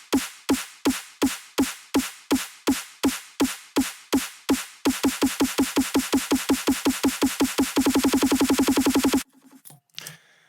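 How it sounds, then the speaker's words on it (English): A simple snare drum roll: loud, close strokes start as evenly spaced single hits, speed up into a tighter run, then blur into a continuous buzz roll before stopping abruptly, followed by a brief scattered tail. "how to make a snare roll that sounds like this"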